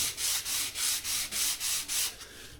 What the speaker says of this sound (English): they recommend sanding with at least 400 grit